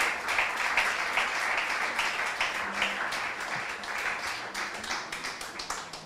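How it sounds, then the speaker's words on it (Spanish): A church congregation applauds together, with dense, steady clapping that fills the room for several seconds and only begins to thin out near the end. "Dale ese aplauso al Señor."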